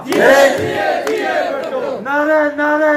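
Crowd at a Pakistan Peoples Party political rally loudly shouting slogans in unison, with strong voiced chants in two bursts and a brief break between them.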